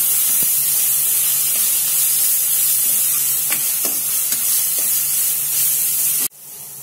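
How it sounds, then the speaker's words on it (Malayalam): Crushed ginger, green chilli and garlic sizzle in frying onion for Kerala-style chicken varattiyathu, a loud steady hiss with occasional scraping stirs, cutting off abruptly near the end; no talking. "നമ്മൾ അതിലേക്ക് ഇഞ്ചി ചതച്ചിട്ട് കൊടുക്കാം, പച്ചമുളക് ചതച്ചത്, വെളുത്തുള്ളി ചതച്ചത്."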